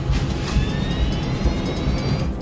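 Jet airliner engines roar at full takeoff power, a loud, steady wide-band rush with a thin high whine running through it, continuous and close, with no voices.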